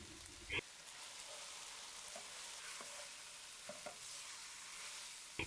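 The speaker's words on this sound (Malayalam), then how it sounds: "ഇനി ഇതിലോട്ട് 1/2 ടേബിൾ സ്പൂൺ വെളിച്ചെണ്ണയും 1 തണ്ട് കറിവേപ്പിലയും ഇട്ട് നന്നായിട്ട് ഒന്നുകൂടി മിക്സ് ചെയ്യുക." Pork being stir-fried with coconut oil and curry leaves for pork ularthiyathu, a faint, steady sizzle like light rain, with a few soft spatula clicks scattered through it and no talking.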